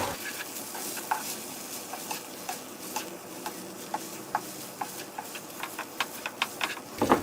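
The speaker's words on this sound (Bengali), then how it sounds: "এবার আমরা ভালোভাবে নেড়ে দিচ্ছি।" Vegetable noodles frying in a pan as they are stirred, with a continuous sizzle under a regular series of close spatula taps and scrapes that grow more frequent toward the end.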